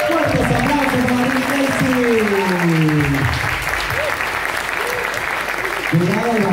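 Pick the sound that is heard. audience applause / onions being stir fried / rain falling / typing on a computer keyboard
audience applause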